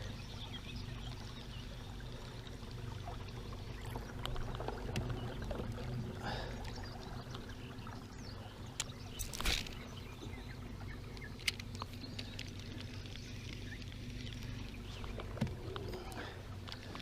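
Faint, steady water sounds from a small rowboat moving upstream against the current, with occasional soft splashes and knocks against a quiet background.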